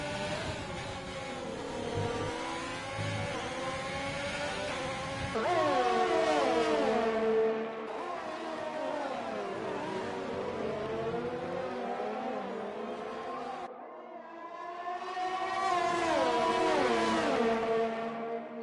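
F3 race cars scream around a track in Canada, their engines rising and falling in pitch as they accelerate and shift. Several overlapping passes sound loud and near, with brief lifts between them.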